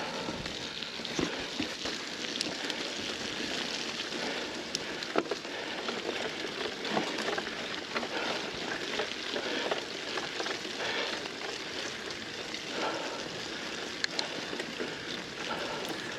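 Rain falls steadily on a muddy trail during a bike race, a constant dense hiss with scattered drips and splatters, fairly faint and uninterrupted, with no voices.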